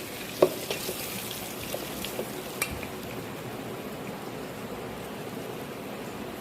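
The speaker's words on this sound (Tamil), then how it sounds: "இது எல்லாத்தையும் போட்டு நல்லா வதக்கணும் ஃப்ரெண்ட்ஸ்" Spices and vegetables for radish sambar sauté in a pan with a soft, even sizzle and a few light stirring taps near the start, with no voices.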